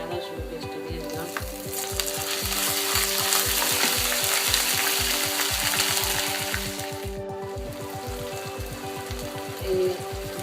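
Ginger garlic paste hitting hot oil in a pan for soya nugget and shrimp curry, a loud, dense sizzle that swells then settles, with a clatter of stirring near the end.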